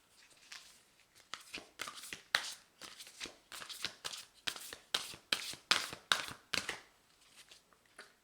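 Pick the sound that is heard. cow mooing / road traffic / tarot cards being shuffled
tarot cards being shuffled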